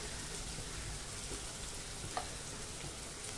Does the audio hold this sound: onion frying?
yes